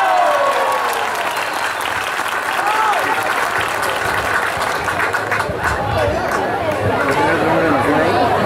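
A crowd at an outdoor neighborhood political rally in Cauca, Colombia claps steadily, with cheering and loud voices mixed into the applause throughout.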